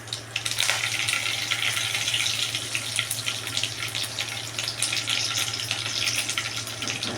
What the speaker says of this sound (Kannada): ಇದು ಚಟಪಟ ಅಂತ ಸಿಡ್ತಾ ಇದೆ ನೋಡಿ.